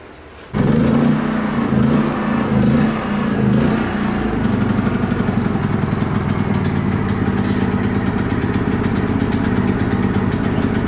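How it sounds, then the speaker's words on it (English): A new inverter generator, meant as a quieter unit for campsites beside an old RV being renovated, starts abruptly and settles into a steady, moderately loud running hum close by. "So we got this new inverter generator that's going to be a lot quieter, so we can run it when we're in campsites and not disturb everybody."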